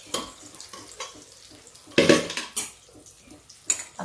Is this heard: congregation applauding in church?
no